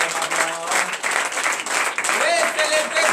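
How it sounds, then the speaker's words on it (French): Church congregation clapping and cheering during a night worship service, a dense, loud wash of applause with voices rising through it and brief tonal cries mixed in. "Si vous êtes dans la joie, donnez une vive acclamation à l'Éternel."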